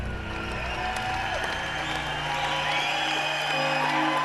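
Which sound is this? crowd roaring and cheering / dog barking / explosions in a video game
crowd roaring and cheering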